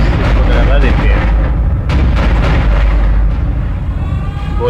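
Loud, continuous burst of rapid gunfire and booming blasts in Dead Space gameplay, dense and chaotic, with someone talking excitedly over it.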